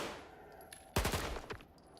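Enemies firing guns in S.T.A.L.K.E.R. 2: a faint, quiet stretch broken by a loud, close burst of rapid shots lasting about half a second, followed by a few trailing reports and echo.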